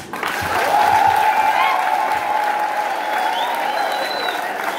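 Wedding guests in a church break into a sustained burst of clapping from a sizable crowd, rising quickly and staying dense and even throughout, with faint voices mixed into the applause.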